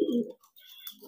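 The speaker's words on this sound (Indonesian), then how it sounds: "Nah ini jenisnya merpati kolong." A kolong pigeon gives a short, close coo of low murmuring notes that fades into quiet, followed by faint rustling and a soft chirp.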